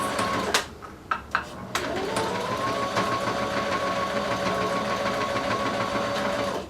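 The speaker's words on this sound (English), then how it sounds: "Sew back stitch as always." A sewing machine stitching knit fabric runs at a steady, continuous hum after a few sharp mechanical clicks at the start, close and alone without any talk.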